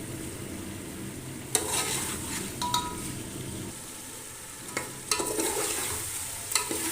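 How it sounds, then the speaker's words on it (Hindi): Biryani spices and masala fry in ghee while being stirred: a steady, close sizzle runs throughout, with scraping stirs and occasional light clinks of a spoon against the pot. No one speaks. "ये देखिए तमाम मसाले ने घी छोड़ दिया है।"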